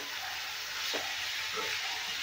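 Ivy gourd fries in oil with a loud, dense, continuous sizzle, a brief stirring scrape in the middle, and no voices.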